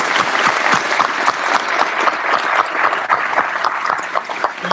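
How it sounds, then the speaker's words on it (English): Audience at a military promotion ceremony applauding veterans, a loud, dense, sustained round of clapping from many hands filling the room without pause. "Let's give them a big round of applause."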